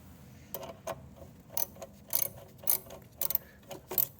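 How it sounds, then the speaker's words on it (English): A ratchet wrench clicks in short bursts while loosening a bolt during charcoal canister replacement on a Volkswagen Vanagon, close and fairly quiet, with faint metallic handling between strokes. "I'm just gonna keep ratcheting this thing off"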